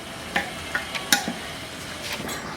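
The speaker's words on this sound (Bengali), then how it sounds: "এখন আমি এই ভাজা চিকেনগুলো এর মধ্যে দিয়ে দিব" Fried chicken pieces are stirred into a thick chili chicken sauce, making light irregular scrapes and taps of a spatula over a faint sizzle, close and fairly quiet.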